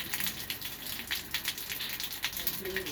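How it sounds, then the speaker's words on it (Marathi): Water overflowing from a full tank pours steadily down near a pump motor, a continuous splashing gush with uneven surges, moderately close and without talk. "टाकी भरल्या सगळं खालीच पडायला लागले पाणी"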